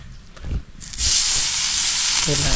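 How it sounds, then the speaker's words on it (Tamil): Masala-coated fish dropped into hot oil on a stone pan outdoors, bursting into a loud, continuous close sizzle after a few quiet handling sounds, with a brief clatter near the end. "இப்போ வந்து மசாலா பரட்டி வச்சுருக்க மீன் எடுத்து உள்ளே போட்டு வரத்துக்கு போகிறோம்."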